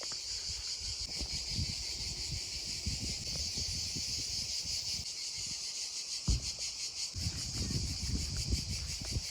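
Cicadas near a river in Divjaka-Karavasta National Park, Albania, keep up a loud, steady, pulsing buzz throughout, with low rumbles and scuffs of movement underneath.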